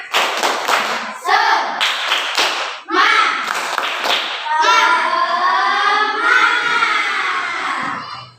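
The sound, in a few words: class doing rhythmic 'tepuk semangat' spirit clap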